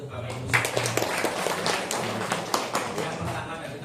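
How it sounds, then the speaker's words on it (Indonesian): Scattered clapping from a meeting audience of the Banyumas micro, small and medium business association, fairly light and uneven over a few seconds, heard alongside a speaker's voice. "tepuk tangan untuk Bapak Ibu sekalian"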